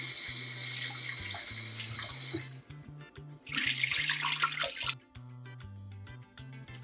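Tap water runs into a pot while rice is washed a few times, a steady gushing stream broken by pauses, sloshing and louder splashing as the grains are rinsed, with a brief voice.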